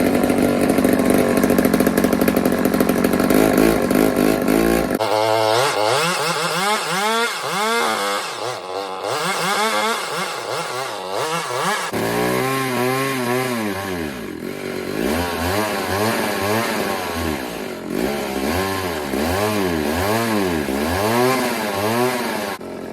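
A vintage bow saw's small two-stroke engine runs loudly and close, buzzing with a rough idle and then revving in repeated rising and falling surges, sparks flying and smoke building indoors.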